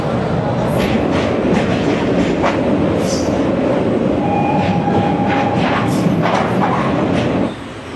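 Loud rumbling train ride heard from inside a carriage passing Kashi railway station near Varanasi, steady roar with wheel clatter and faint squeals, fading slightly at the end.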